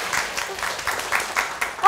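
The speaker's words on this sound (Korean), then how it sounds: "박수 한 번 더." Audience clapping during a televised lecture on home buying in Korea, a brief ripple of claps in loose bursts with a louder thump at the very end.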